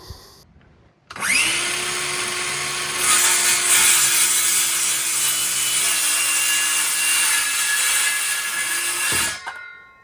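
A power saw cuts through a wooden deck board during a deck repair, winding up quickly into a loud, steady, whining cut that holds for about eight seconds before the blade spins down.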